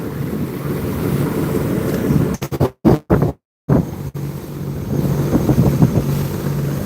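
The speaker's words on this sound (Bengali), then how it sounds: "দেখতে পাচ্ছেন ফেরিকে ওভারটেক করছি আমরা" A boat travelling on a river past a ferry near Munshiganj, with a loud steady rumble of wind and water buffeting the microphone, briefly cutting out in a few gaps before resuming, with no voices.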